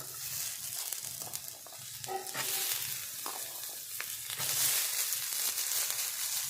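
Chopped potatoes fry in a pan, with steady close sizzling and crackling and a few stirring knocks against the pan throughout.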